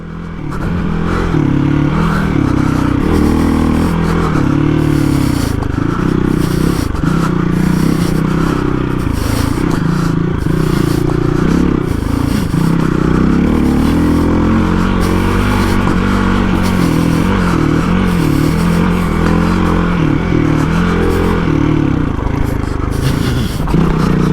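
Hero XPulse 230 motorcycle with a big bore build ridden off-road over rough, sandy ground: a loud, continuous engine drone that surges and eases throughout, mixed with rumbling wind and scraping clatter from the terrain.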